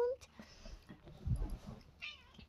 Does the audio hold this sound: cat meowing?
yes